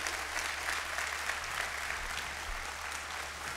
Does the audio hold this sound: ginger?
no